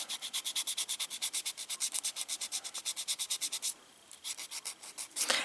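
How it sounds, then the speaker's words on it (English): Sandpaper rubs back and forth over the edges of a baked ball-jointed doll head, a close, steady run of quick rasping strokes in even rhythm, pausing briefly before a few more scrapes. "when I take the sandpaper, I want to round those edges"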